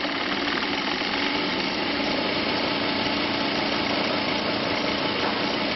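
An RV electric motor driven by a four-SSR rotating inverter runs at about 1800 RPM and gives a steady, even hum and whine that stays constant the whole time, with no talking.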